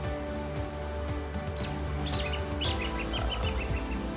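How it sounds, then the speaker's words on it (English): Birds chirp and sing in short, bright bursts over a steady low hum, fairly faint and a little distant. "Can you hear the birds?"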